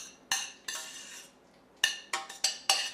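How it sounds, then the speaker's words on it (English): A utensil stirring cooked couscous in a pot, giving a few sharp scraping clinks against the metal with brief pauses between, close and alone. "Let's stir that couscous up."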